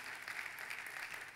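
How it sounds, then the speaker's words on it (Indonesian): A church congregation gives a faint, distant, steady round of applause during a sermon, a continuous soft patter with no voices over it. "Tepuk tangannya pula yang paling meriah buat Tuhan kita."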